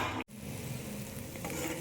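Soft, steady scraping and sizzling as barnyard millet rice is stirred in an iron pan, continuous and close, with a brief cut near the start.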